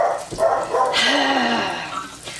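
Dogs barking and yipping indoors in a home kitchen during stovetop cooking, a few sharp close barks and whines running steadily through the short stretch with no one talking.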